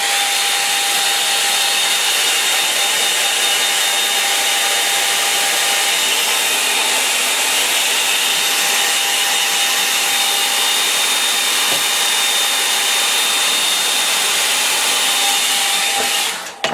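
A hair dryer blows steadily on a watercolour painting of a late-autumn river scene, loud and close with a constant broadband whoosh and faint whine, running unbroken for about sixteen seconds before switching off.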